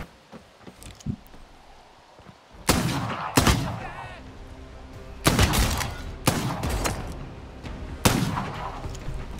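A gun fires in Bloodhunt, heard as several loud, sharp single shots spaced a second or two apart, each with a short ringing tail over quiet game ambience.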